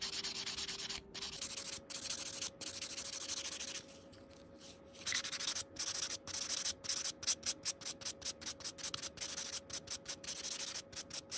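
An acrylic nail is being filed with a nail file in quick, rhythmic scratchy strokes, close and fairly loud, with a short pause partway before the rapid rasping resumes.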